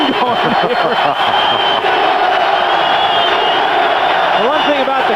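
Crowd roar at a 1991 NFC Divisional playoff game, Atlanta Falcons at Washington Redskins, fills a loud, steady wall of noise with shouts and whoops, while an announcer's voice runs beneath it.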